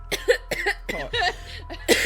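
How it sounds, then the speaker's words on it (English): Several sharp, close coughs in quick succession, separated by short pauses, with the last burst the loudest. "using my real cough"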